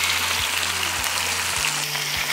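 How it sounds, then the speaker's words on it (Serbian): Chicken liver sizzles as it hits fried garlic in hot oil in a pan, a steady, close frying hiss with faint periodic knocks, no voices. "Na propržen beli luk spuštam pileću džigericu."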